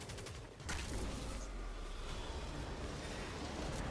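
Video-game gunfire aimed at a boss, a dense fusillade of rapid shots rolling continuously over a low rumble after a short quiet opening.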